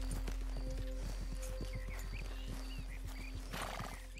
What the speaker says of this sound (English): American paint, I see. Fine cow pony, I'll take it.